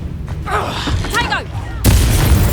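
Confringo fire spell blasts in the video game Hogwarts Legacy: a whooshing cast with swirling magical effects, then a loud sustained burst of explosive noise in the last second.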